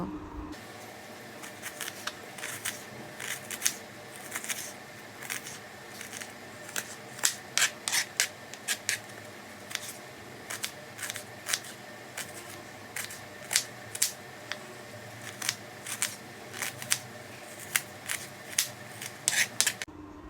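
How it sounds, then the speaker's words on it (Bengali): Knife chopping onions finely on a board, sharp crisp cuts arriving in irregular bursts, sparse at first and then quickening into rapid clusters, quiet and close with no talk. "প্রথমে আমি পেঁয়াজ দুটোকে এইভাবে কুচি কুচি করে কেটে নেব"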